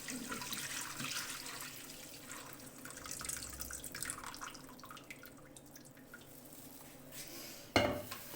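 Strained chicken stock for chicken corn soup is poured from a bowl into a pan, giving a faint, continuous trickle of liquid with a few soft drips and a light clink of cookware near the end.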